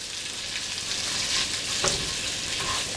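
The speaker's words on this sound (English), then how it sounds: "I just added a little bit of oil, and we're just gonna fry this up until these little pieces get nice and crispy." Chopped smoked chicken fries in a little oil in a pan, a steady close sizzle with light crackle and a brief stir partway through, no voices.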